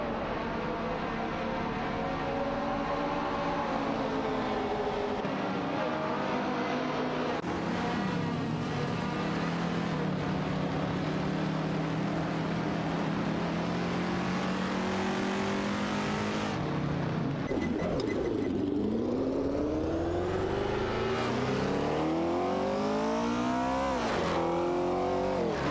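Race cars in a racing video game, including a Chinook MK2 and a Nissan R300, give a continuous loud engine drone with rising and falling revs and gear shifts, with several cars audible together and no talking.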